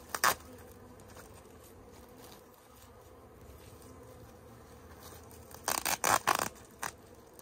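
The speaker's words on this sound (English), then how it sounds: "It's such a pleasure how chill these bees are." Honeybees hum softly and continuously around a Warré beehive, broken by a few brief scraping and handling noises close by.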